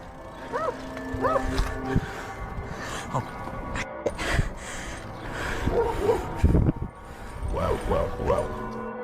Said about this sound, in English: he hears barking behind him and the chase is on again